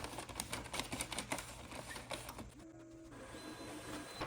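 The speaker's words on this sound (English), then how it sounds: "it's time to print the label" A label printer at a pharmacy clinic prints a medication label with a quiet, rapid chattering of the print mechanism. A brief mechanical whir follows near the end, all faint against a low background hum.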